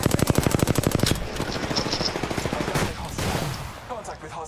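Rapid automatic gunfire in the shooter game Apex Legends rattles off in a fast, loud burst of evenly spaced shots, then breaks into scattered impacts and softer game noise.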